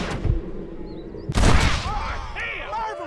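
A single loud, close gunshot rings out in the Red Dead Redemption Western video game, with a sharp blast that decays into a ringing tail over ambient game sound.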